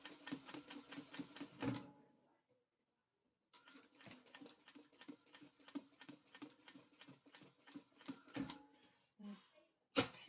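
A sewing machine stitching a quilted fabric drinks coaster, running in rapid rhythmic bursts of needle clatter, pausing for about two seconds, then stitching again before a few short final stitches; close and fairly quiet.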